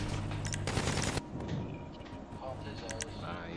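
Gunfire in the GTA RP video game crackles in a rapid burst of shots, followed by a few scattered pops and clicks, under a low game background and quiet voices.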